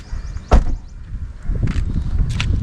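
An MG Astor car door shuts with one solid, close thunk, followed by quieter clunks and faint clicks a second or so later.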